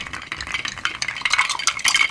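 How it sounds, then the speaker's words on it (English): Ice being stirred in a mixing glass for a Sazerac cocktail, a continuous close clatter of cubes knocking and sliding against the glass and spoon, steady and fairly loud throughout with no voices. "We're going to add some ice. Stir it a little bit."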